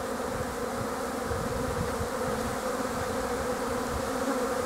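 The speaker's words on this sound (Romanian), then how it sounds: "descoperim așa în trecere și albinuții care au polen" Honeybees buzz in a dense, steady drone as they leave the hive on a cleansing flight on a mild February day. The many wingbeats merge into one close, continuous hum with no voices over it.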